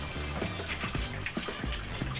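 Tap water streams steadily into a washer drum for laundry, a continuous splashing gush with no voices over it.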